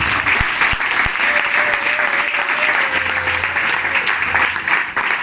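A church congregation bursts into sustained applause and cheering for the Lord, a broad, loud wash of clapping from many hands with a few sharp nearby claps, a voice carrying over it.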